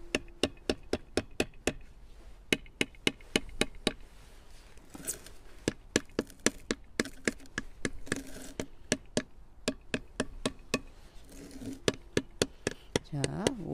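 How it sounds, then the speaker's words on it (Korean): A hammer taps an old flower pot repeatedly to loosen a potted olive tree, sharp close knocks in quick irregular runs with short pauses between the bursts. "살살살 돌려가면서 망치로 얘네들을 흔들어 줍니다."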